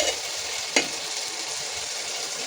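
Pointed gourd (potol) sizzles in a pan as it is stirred, a soft steady frying hiss with one sharp scrape of the spatula, no voices.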